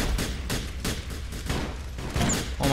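Rapid gunfire in GTA 4: The Lost and Damned, aimed at a van, a loud, dense stream of repeated shots filling the whole stretch with no pauses.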